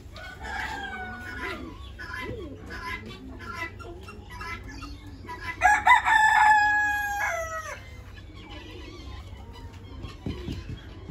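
A desi rooster perched on a dog cage crows loudly nearby, rising and then trailing off, amid scattered clucking and other bird calls over a steady background hum.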